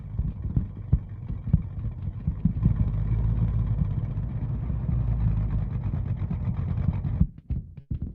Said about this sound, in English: working of the engine hearable from the exhaust